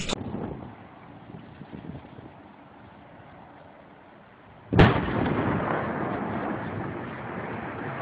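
A dynamite blast splits a mountainside near the Geyve Strait close to a pipeline: after several seconds of steady wind-like rumble, a single sharp explosion hits loudly, followed by a sustained roaring rumble of falling rock and debris.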